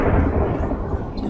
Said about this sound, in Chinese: 发现人在外面的那个雷声雨声会很大声啊